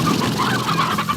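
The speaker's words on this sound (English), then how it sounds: "This is my chicken pen." Chickens cluck in a pen in the video game Slime Rancher, a steady, fairly loud run of close fowl clucks with no voices over them.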